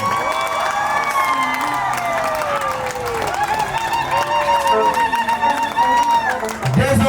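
Wedding guests at an official civil marriage ceremony in Congo-Brazzaville burst into applause, cheers and high whoops, a lively crowd filling the room with voices mixed through it.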